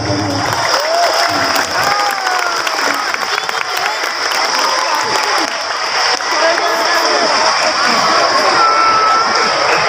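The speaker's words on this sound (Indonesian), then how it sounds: "Tolong dikurangi tepuk tangannya, ini di masjid, ini di masjid." A large crowd applauds and cheers loudly and continuously in a reverberant mosque hall during a Maulid Nabi sermon, with shouts and whistles mixed into the clapping.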